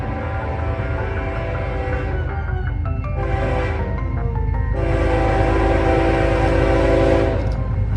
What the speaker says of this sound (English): an eastbound tanker train with a very fresh H3 ES44 DC and the H3 nose oddball -9